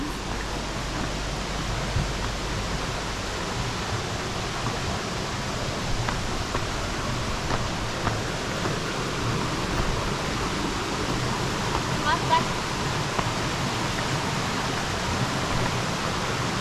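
Steady broadband rush of the Kuthumkal waterfall near Rajakkad in Munnar, Kerala, with water pouring down onto rocks; a continuous, even roar heard alone, with no voices.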